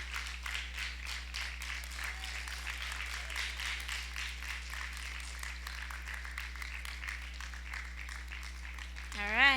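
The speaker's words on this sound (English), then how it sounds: "Come on, clap it up." An audience claps for contestants returning to the stage at a university talent show quarter final, steady moderate clapping heard over a constant low electrical hum, with a short squeal near the end.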